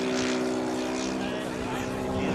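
A small four-stroke engine of about 1.2 to 1.5 cubic inches drones steadily with an even buzzing pitch, an RC model airplane flying at moderate distance at an airshow, holding a constant tone.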